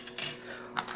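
Metal washers drop and clink together in a quick, light jingle of a few small metallic hits, close and fairly faint, with no voices.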